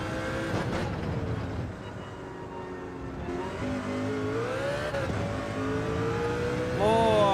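Race car engine in the Gran Turismo 7 racing game, revving steadily through gear changes with rising and falling pitch and sustained drive on straights, loud and close, with a voice talking over it.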